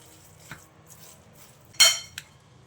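A spoon works through chicken momo filling seasoned with chili powder in a bowl, giving a few faint clinks and scrapes and one sharper metallic knock near the end, against a quiet background.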